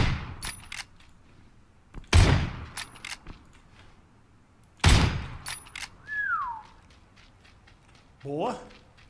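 Two loud, sharp Winchester rifle shots in PUBG Battlegrounds, a few seconds apart, each ringing out briefly, with softer mechanical clicks and someone talking between them.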